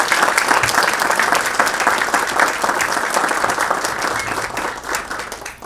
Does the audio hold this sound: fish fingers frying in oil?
no